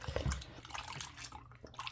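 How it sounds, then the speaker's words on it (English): A paint brush is rinsed in a bucket of hot water, giving irregular sloshing and splashing with short watery bursts, close and moderately loud, with no talk. "Rinse my brush out."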